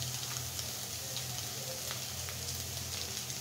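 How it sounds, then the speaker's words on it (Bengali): Prawns and leafy greens cooking in a pan with spices, sizzling in a soft, steady hiss with faint crackles and light stirring, fairly quiet and without talking. "একটা মশলা দিয়ে এখন আমি মাছটার ভিতরে শাকটা দিয়ে সুন্দর করে নেড়ে নিচ্ছি"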